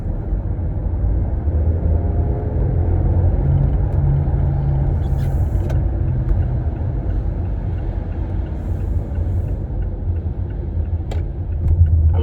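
A 2025 Mazda CX-5 cruising on the road gives a steady low rumble of road and engine noise inside the cabin, even and continuous with a few faint clicks.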